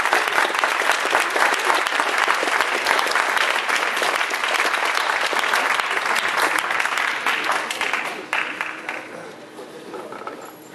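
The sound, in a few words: audience applause for a ballet performance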